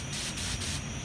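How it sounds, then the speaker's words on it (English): Aerosol smoke-detector test spray is aimed at a detector, giving a steady close hiss broken into short bursts for about a second, alone without talk. "spray that detector right there"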